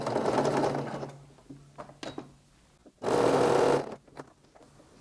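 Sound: sewing machine stitching lycra shapewear

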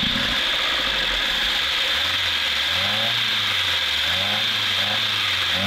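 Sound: VAZ car engine started and idling

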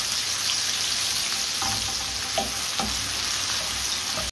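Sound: sliced onion frying in butter ghee

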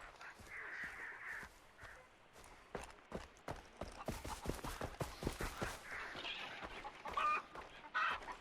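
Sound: chicken clucking in the video game Far Cry 3

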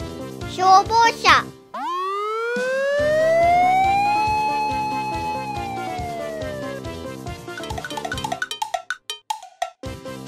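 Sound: fire engine siren

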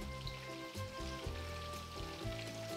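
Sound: chicken frying in oil

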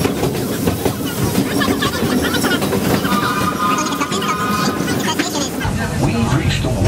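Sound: Magic Kingdom railroad train running at Disney

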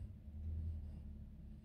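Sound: car driving by too close

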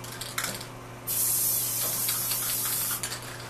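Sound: spraying spray glue

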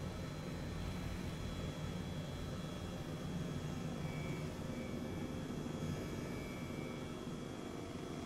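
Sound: airplane in flight

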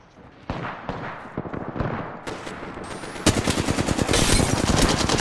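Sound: enemies shooting guns in a video game

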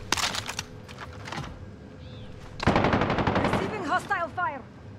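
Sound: gunfire in Call of Duty Warzone video game

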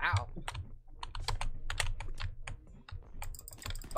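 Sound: cat walking on a computer keyboard

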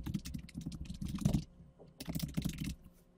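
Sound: typing an email address on a computer keyboard

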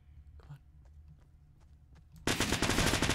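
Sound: machine gun fire in video game Fortnite

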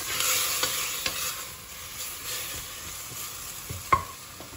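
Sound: meat sautéing in a pan

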